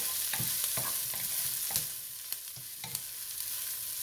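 Onions cooking over medium heat in a pot, a soft steady sizzle broken by a run of spoon scrapes and taps, strongest in the first half and fading to sparse clinks, close and without voices.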